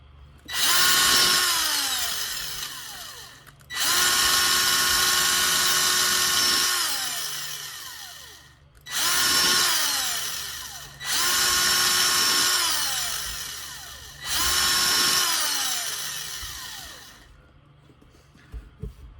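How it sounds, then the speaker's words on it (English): A power drill whines up and down in five long bursts, each a few seconds long, close by, with short pauses between them, boring holes in wood with a thin bit. "get a nice skinny little drill bit and just kind of do what I call the postage stamp"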